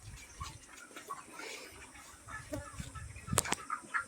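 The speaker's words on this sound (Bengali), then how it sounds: "মুরগি ফার্ম আছে এখানে।" Chickens at a chicken farm on a plant nursery cluck faintly and intermittently, as if from a distance, amid quiet outdoor background noise with no talk.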